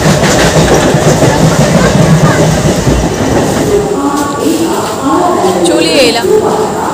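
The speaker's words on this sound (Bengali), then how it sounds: "ট্রেন ঢুকছে।" A Howrah Bandar local train rolls into platform 3 at Howrah station, its wheels clattering loudly and continuously, with a station announcement and crowd voices underneath and lighter wheel squeals as it slows.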